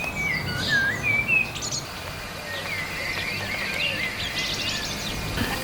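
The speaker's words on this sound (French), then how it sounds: "Le rugissement des machines crachant leur fumée noirâtre font place au sifflement merveilleux des oiseaux." Several birds chirp and whistle in short, bright phrases over a soft steady background of insect buzz, fairly close and clear.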